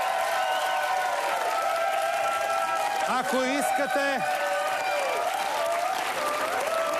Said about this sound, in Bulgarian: Да го изпратим с аплодисменти Ицо Хазарта.